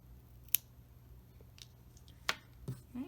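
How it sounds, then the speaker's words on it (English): Scissors snip crochet yarn in a couple of quiet, sharp cuts close by, with faint rustling in between and no speech. "we can cut our yarn here."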